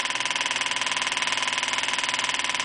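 A small putt-putt motor driven by a 24-volt solenoid runs steadily, giving a rapid, even pulsing chug heard close up without talk.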